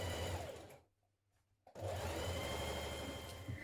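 A sewing machine stitches side seams on shirtdress skirt panels in a steady whirring run. It stops briefly near the middle, then restarts and keeps running close and clear.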